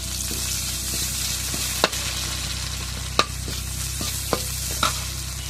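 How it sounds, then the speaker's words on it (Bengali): Onion frying in oil in a pan gives a steady, close sizzling hiss with a few sharp clicks and scrapes of stirring scattered through it. "এখন পেঁয়াজটা ভাজা হয়ে গেছে, এখন ডালগুলো দিয়ে দিই।"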